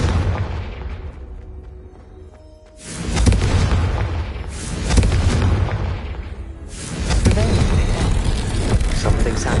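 Confringo spell blasts in the Hogwarts Legacy video game, a quieter stretch of game sound followed by three loud, close explosive bursts, each rumbling on for a second or two.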